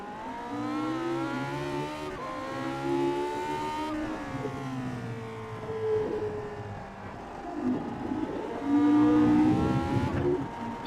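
A race car engine in a racing video game revs and drops through repeated gear changes, its whining harmonics rising and falling close and steady throughout, with no talking.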